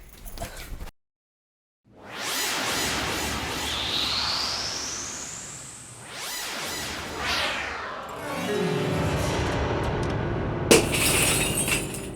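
Glass object, a gift, shattering and breaking apart with a loud crash followed by scattering, tinkling fragments and further smashing sounds over several seconds, with no talk.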